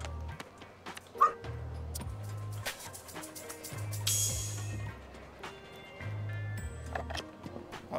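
A dog in the video game Thirsty Suitors gives a few short barks and whimpers over a looping musical game soundtrack, with brief chimes and a swishing effect mixed in.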